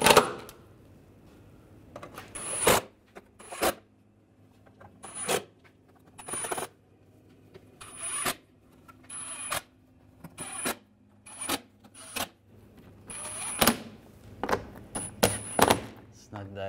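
Bolts on a 2009-2010 BMW 5 Series front lower control arm are tightened with a ratchet, giving quiet bursts of ratcheting clicks separated by short pauses.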